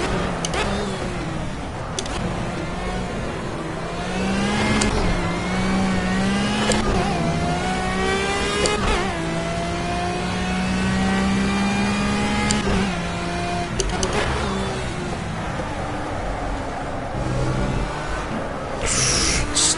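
Formula A open-wheel race car engine in Project CARS, revving up and down through a second-gear hairpin, with rising and falling harmonic whine and gear changes, loud and steady throughout.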